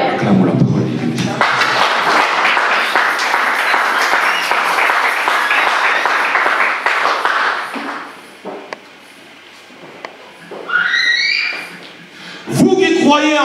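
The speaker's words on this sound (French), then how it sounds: "Acclamons la parole de Dieu." A church congregation bursts into sustained, loud applause that rolls on for several seconds, then fades to quieter murmurs, with brief further claps and a voice near the end.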